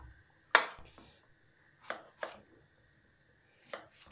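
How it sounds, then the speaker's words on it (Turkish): A kitchen knife cuts a zucchini into quarters on a board: four sharp, separate chops spaced over a few seconds, close and fairly quiet, with no talk. "Kabağı önce şöyle dörde bölüyoruz."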